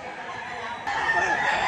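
A White Kelso gamecock rooster crows loudly and close by, breaking out partway through over a background of clucking birds at a gamefowl sale.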